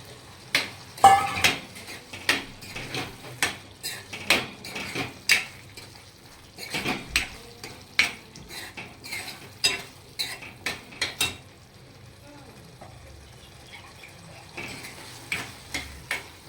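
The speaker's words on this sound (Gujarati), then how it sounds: "હવે આપણે મેં સિંગદાણા નાખી દઈશું" Raw peanuts go into a pan of Punjabi-style curry and are stirred with a spoon, giving a quiet scraping and a string of sharp metallic clinks against the pan in uneven rhythm, with a soft sizzle underneath and no talking.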